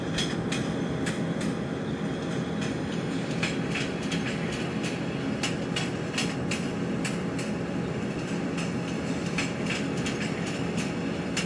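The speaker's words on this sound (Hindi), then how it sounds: "सामने से कोई ट्रेन आ भी रही है।" Simulated train in the Open Rail train simulator game near Patna Junction's outer approach, a steady broadband rumble with repeated rhythmic wheel clicks over rail joints throughout, no voices.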